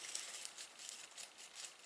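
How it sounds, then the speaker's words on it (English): An American moon moth pupa (Actias luna) stirs inside its cocoon, giving a faint, soft, continuous papery rustle and patter with no voices. "Pupa is making noise for self-protection"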